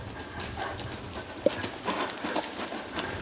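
Horse hooves clip-clop during a dressage exercise, a loose rhythm of muffled footfalls at moderate distance with one sharp higher knock, no voices present.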